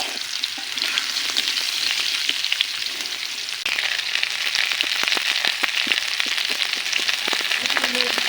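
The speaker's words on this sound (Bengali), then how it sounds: "এখন দিয়ে দিব মূলা, মূলাটা দিয়ে এভাবে কিছু সময় ভেজে নিব।" Sliced radish fries in hot oil in a pan with a loud, continuous crackling sizzle, dense with small pops, which intensifies slightly partway through.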